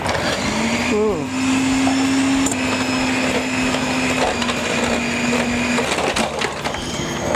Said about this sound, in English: In this butter goes about 100 grams of sugar and give this a very good mix.